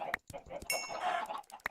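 Chickens in the video game Minecraft give a few short clucks, close and clear, interspersed with sharp clicking hits over a quiet game background.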